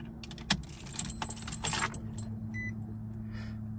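Car keys jangle inside an Infiniti G35 coupe, a few bright metallic clinks and rattles close by over a low steady cabin hum, with no talking.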